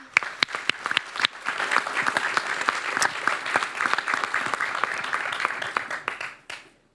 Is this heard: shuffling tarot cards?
no